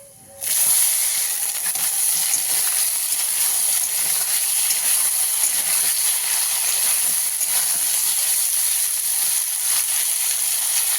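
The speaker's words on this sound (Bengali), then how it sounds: "আর এই যে উচ্ছে আর কুমড়ো কেটে নিয়েছি, এগুলো এই তেলের মধ্যে দিয়ে দেবো।" Bitter gourd and pumpkin pieces drop into hot mustard-seed-tempered oil and burst into a sudden loud hiss, then a steady, dense, close sizzle continues unbroken with no talking.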